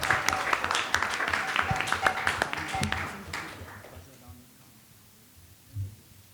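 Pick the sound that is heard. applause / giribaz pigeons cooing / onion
applause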